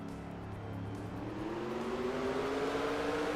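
Race cars in a doubled-up field roll toward the green flag at the lap 12 restart, engines droning together with a steadily rising pitch as they accelerate, a continuous mid-level roar with no talk.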